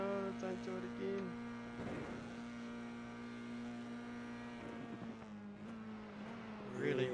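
An F4 race car engine revs at Mount Panorama, a steady harmonic drone shifting pitch with gear changes and surges, heard at moderate distance over about seven seconds.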